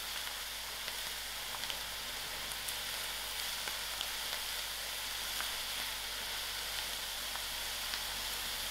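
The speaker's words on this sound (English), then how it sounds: "I give this methi a quick mix" Methi herbs frying in a pot make a steady, even sizzle that holds all the way through, with faint scattered crackles and light stirring scrapes on top, and no voices.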